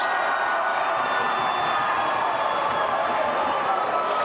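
A Longford home crowd at a football grand final rising in steady applause and cheers, a dense, distant wash of clapping held for several seconds without speech.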